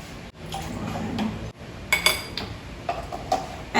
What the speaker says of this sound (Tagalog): we will just mix everything up